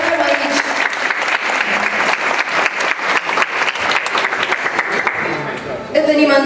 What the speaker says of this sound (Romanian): Vreau să încep întâi cu un rând de aplauze pentru ediția aniversară 10 ani de Lira.